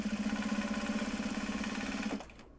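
A sewing machine stitches project bags from Japanese fabric. It runs with a steady, rapid, even rhythm close by for about two seconds, then stops abruptly, leaving faint room noise.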